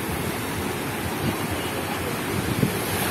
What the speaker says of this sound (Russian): Вчера были волны намного сильнее.